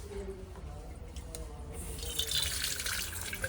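Water poured for a lucky bamboo plant, a gentle trickle that grows into a louder steady pour, with a voice speaking quietly in the background.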